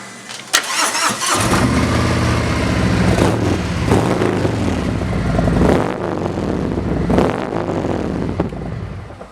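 A 2017 Harley-Davidson Road King motorcycle engine cranks, catches and roars to life, then idles loud and close with a few throttle blips rising and falling.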